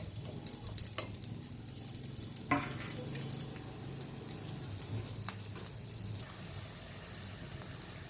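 Chopped onion frying in oil in a pan for a mint chicken dish, a steady soft sizzle with occasional stirring scrapes and clinks, close and continuous with no talking.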